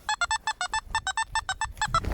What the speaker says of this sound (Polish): taki sygnał wysoki